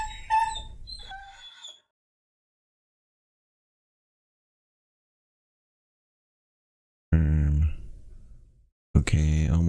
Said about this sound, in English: Sorry for the dog.